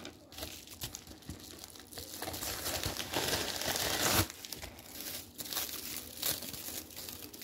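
Paper crinkles and tears as a package is opened by hand, close and continuous crumpling rustles that swell in the middle before settling into lighter handling.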